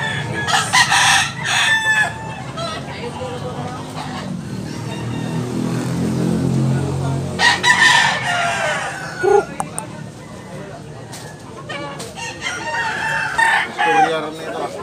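Several White Leghorn roosters crow loudly, one after another, with clucking and a car passing in between; voices are heard faintly nearby. Recorded in Tabunok, Talisay, Cebu.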